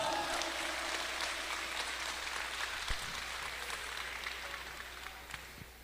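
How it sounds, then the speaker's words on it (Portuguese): A church congregation claps steadily for several seconds in a dense, fairly distant wash of applause, with faint crowd murmur underneath. "Aplaude ao Senhor."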